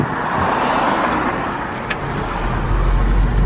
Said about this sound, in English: Oh, trucks.